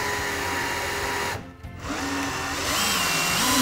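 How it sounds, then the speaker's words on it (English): Power drill whirring loudly and steadily up close as screws drive into pallet wood slats, with a brief pause mid-clip before the motor spins up again and keeps running. "Okay, now I'm going to start screwing the slats into place."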